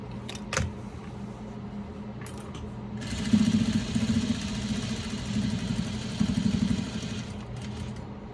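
A quiet sewing machine runs while stitching face masks, its soft motor hum and rapid needle chatter building after a few brief clicks and continuing steadily, with short pauses; no talk.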